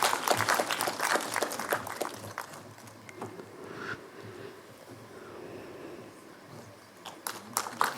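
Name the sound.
big round of applause for a professor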